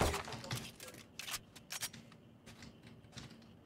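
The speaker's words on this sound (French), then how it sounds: "Je recharge." Weapon reload in the video game Valorant: a few sharp mechanical clicks and snaps, clustered near the middle, over low game ambience.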